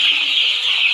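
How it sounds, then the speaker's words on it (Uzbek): Dense chorus of young chicks peeping steadily on a poultry farm holding about two thousand birds, a continuous high chirping wash with no talk. "Bu yerda 2000 ta jo'ja bor."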